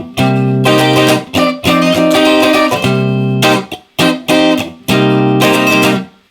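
An electric guitar plays a melodic lead lick on top of strummed chords, in loud, close bursts of ringing notes separated by short pauses.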